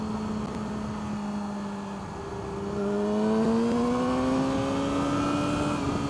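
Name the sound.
vehicle with Yoshi no-baffle exhaust and M4 Y pipe accelerating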